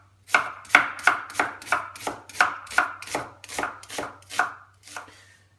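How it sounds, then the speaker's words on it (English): A knife slices a halved onion thinly on a cutting board for a fish stock base, making about eleven crisp, evenly spaced chops close up, steady and alone with no talk. "We're going to start with the onion, cut in half. And we're going to basically do thin slices."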